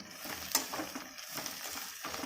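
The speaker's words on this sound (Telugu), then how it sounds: "ఈ మునగాకు వేసుకున్న తర్వాత మనము స్టవ్ లో ఫ్లేమ్లో పెట్టుకొని టూ మినిట్స్ కొద్దిగా వేయించుకోవాలి" Drumstick leaves frying in a pan on the stove, a soft, steady crackle and sizzle with a brief sharp clink near the start.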